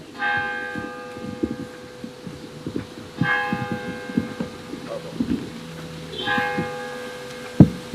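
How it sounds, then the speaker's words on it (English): A church or town hall bell in Provincetown strikes ten o'clock, giving three clear, resonant tolls about three seconds apart over faint room murmur in an auditorium. "I'll wait for the bell."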